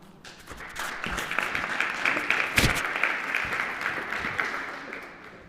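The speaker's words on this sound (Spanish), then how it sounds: "le damos un fuerte aplauso, por favor" Audience applause at a municipal panel session, a dense, steady wash of many hands clapping that holds at an even level for several seconds, without any talk over it.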